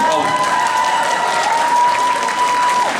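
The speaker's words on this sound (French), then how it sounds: "Donc applaudissez." An audience at a cosplay contest selection gives loud, steady applause that fills the room for a few seconds without a break.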